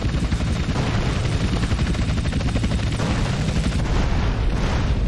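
Gunfire and explosions from the video game GTA San Andreas, a dense, continuous barrage of rapid shots and booms that stays loud for the whole stretch with no talking.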